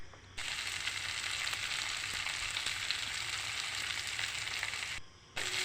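Rajma beans fry in a covered pan and get stirred, giving a steady, close sizzle that runs almost unbroken, with a couple of brief drops near the start and end.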